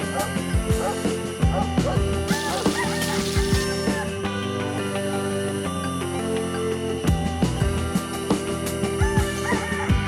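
Ducks on a farm, a noisy flock honking and quacking close by in overlapping, continuous calls, with other farmyard sounds mixed in.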